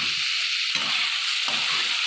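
Green chili paste and coriander leaf paste fry in oil in a pan for a poppy seed, cauliflower and potato curry. A loud, continuous sizzle is broken by two quick scraping stirs, and no one speaks.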